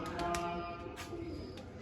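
Pigeons coo softly in a loft, with several low purring calls set against steady background noise and no clear talking.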